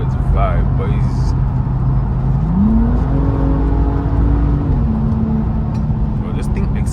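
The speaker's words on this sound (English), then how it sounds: "Bro, this thing accelerates like that quick, bro." A BMW M235i pulls hard through its gears in city traffic, engine note climbing in a steady sweep, briefly easing, then holding a sustained drone close by, with voices talking over it.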